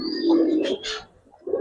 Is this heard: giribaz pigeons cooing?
yes